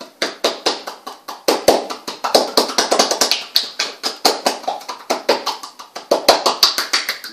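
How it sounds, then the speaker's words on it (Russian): Rapid cupped-palm tapping massage on the buttocks produces a string of hollow, close slaps in quick uneven bursts, with a few brief pauses between runs. "Можно также хлопковая техника, да, превращаете свою ладонь в такую вот как бы лодочку"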